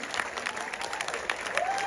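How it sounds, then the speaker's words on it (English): A festival crowd applauds actress Dolly De Leon with a steady, full patter of clapping that fills the hall, sustained throughout with a faint whistle or cheer near the end. "one more magnificent round of applause for Dolly De Leon, the star of Triangle of Sadness"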